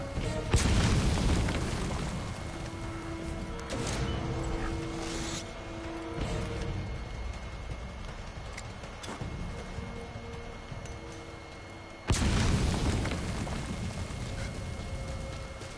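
Grenade blasts boom in the video game Metal Gear Survive, two loud heavy explosions with long rumbling tails amid continuous game noise and clatter.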